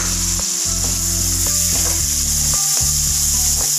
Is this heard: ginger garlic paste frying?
yes